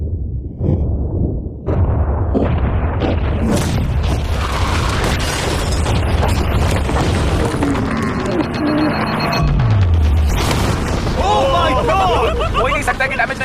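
Mines set off beside a yacht give a loud roaring blast and rumbling debris, followed by crashing mechanical noise and a falling whistle-like tone, with excited crowd voices throughout.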